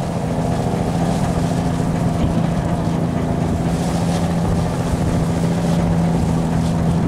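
A Vietnamese rice boat's engine drones steadily and loudly on a river with strong waves, with low motor hum, splashing water and wind noise close to the microphone.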